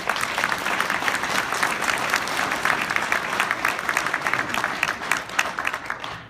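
A large audience claps steadily throughout, a dense continuous wash of applause that holds at an even level.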